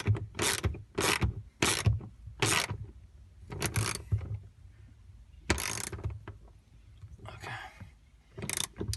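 A ratchet clicks in quick repeated bursts, tightening a racing harness bracket bolt inside an EVO 9 MR, close and crisp with brief pauses between strokes.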